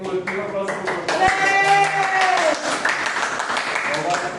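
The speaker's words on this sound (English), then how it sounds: "Give applause to group 2." A classroom of students gives scattered applause for a presenting group, light clapping mixed with chatter and voices throughout.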